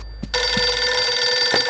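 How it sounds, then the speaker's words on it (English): Old-style telephone ringing in the horror video game Eternal Darkness: Sanity's Requiem, a loud continuous electronic bell trill that starts abruptly after a couple of faint thumps and carries on steadily. "the phone ringing?"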